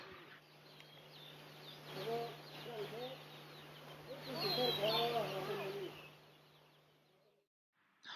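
Domestic chickens kept by a rural tribal household, clucking and calling at close range in scattered bursts over a steady low hum, with faint background voices.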